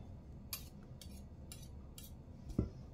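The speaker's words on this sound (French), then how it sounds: "Je prends mon petit fouet." A small metal whisk picked up and handled in a kitchen during waffle-making, giving a few light, bright metallic clinks about half a second apart, then a duller knock. All are quiet and close, with no talking.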